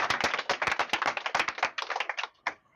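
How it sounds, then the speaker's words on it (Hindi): Audience applause welcoming a student honoured as a Bihar board 10th-grade topper: dense, loud clapping from many hands that starts at once, carries on steadily and then thins to a few last claps, with no talk. "चलिए, ताली मार के सब स्वागत करेंगे।"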